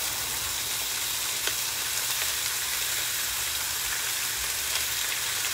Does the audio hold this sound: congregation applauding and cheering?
no